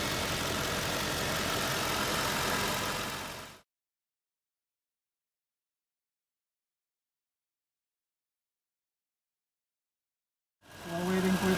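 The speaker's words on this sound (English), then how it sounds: "the engine is actually running fine now when it's warm up" A warmed-up Volvo car engine idles smoothly after a transmission fluid change with Lucas and MaxLife ATF, meant to cure torque converter shudder. A steady, close idle drone runs for about three seconds, cuts to a long silence, then briefly returns at the end.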